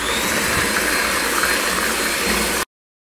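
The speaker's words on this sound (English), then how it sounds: "I'm going to keep on whisking until it's lighter and fluffier." Loud, steady whirring as cake batter for a coconut and raspberry tray bake is whisked until lighter and fluffier, continuing without pause before stopping abruptly.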